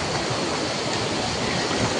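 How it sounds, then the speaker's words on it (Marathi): Large waterfall at Zenith waterfall near Khopoli, a steady, loud broadband roar of falling water filling the whole clip without pause, close and constant. "बापरे बाप काय मोठ वरनं धबधबा"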